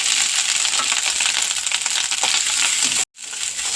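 Grated coconut roasting in a frying pan in a Kerala kitchen, a steady loud dry sizzle and crackle that cuts out abruptly near the end before resuming.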